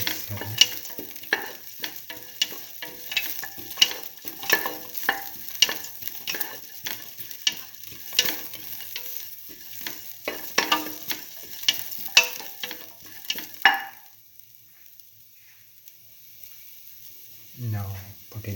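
Stirring green chili and salt into a frying split mung bean and tomato stew: scraping utensil strokes and clinks against the pan over a soft sizzle, stopping near the end before a brief final stir.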